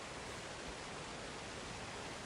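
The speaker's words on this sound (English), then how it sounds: "Allow the sound of the waterfall to calm your body." A waterfall pours in a steady, dense hiss of falling water, constant and even in level from start to finish with no voices over it.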